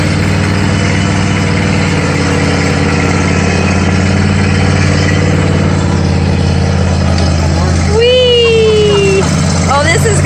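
A tractor engine runs steadily throughout a ride, a constant low idling rumble with a brief rising whine near the end.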